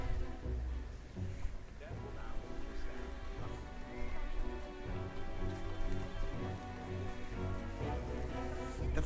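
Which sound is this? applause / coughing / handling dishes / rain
rain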